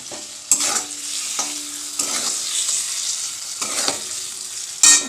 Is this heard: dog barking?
no